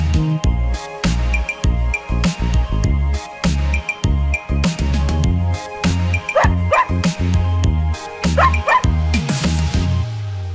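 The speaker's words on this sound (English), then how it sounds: "this is dog" A dog barks repeatedly in loud bow-wow bursts with a few yips and whimpers, close and clear, with no talk over it.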